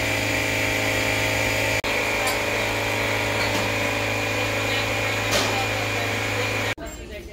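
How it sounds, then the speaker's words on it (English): Air compressor being tried out inside a Goodwill thrift store, a loud steady motor drone running continuously for several seconds before cutting off abruptly near the end, leaving quieter store ambience. "There is somebody trying out an air compressor."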